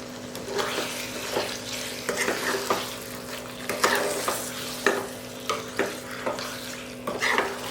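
Chicken coated in masala is stirred in a pan for Mangalorean-style ghee roast, with repeated scraping strokes over a soft background sizzle.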